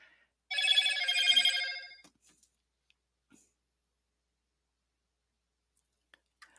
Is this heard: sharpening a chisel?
no